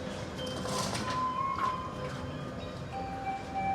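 A Harina economy premium train rumbles steadily alongside a platform at Purwakarta station, with wheel squeals and a low mechanical drone as it moves off.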